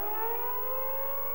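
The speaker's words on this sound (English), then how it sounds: "The sirens once more struck fear into a frightened community." Air raid sirens sound a steady, sustained wail with layered tones, loud and continuous throughout, with no voices.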